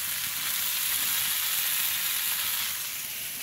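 Eggplant slices frying crisp in a small amount of mustard oil, a dense, even sizzle close by with a faint stir now and then, no talking.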